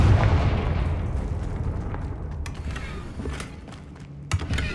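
A booming spell explosion from the Confringo curse in a Harry Potter video game, loud at the start and decaying into rumbling debris with a few smaller pops later.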